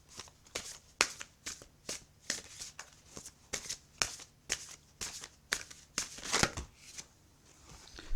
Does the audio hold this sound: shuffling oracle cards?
yes